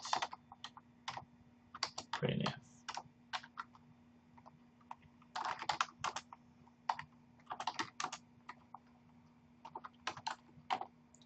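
Computer keyboard typing of C loop code comes in quick irregular bursts of clicky keystrokes, close and fairly quiet, with short pauses between runs of keys and a steady faint hum beneath.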